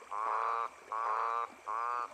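Three long, droning croaks of olive toads repeat at a steady pace, each lasting about half a second, fairly faint against a quiet background.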